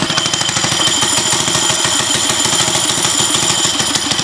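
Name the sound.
mini bike engine revving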